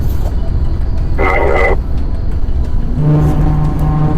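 A car accelerates hard along a motorway during a police chase, a loud continuous road and engine roar filling the whole stretch, with a steady whine rising near the end.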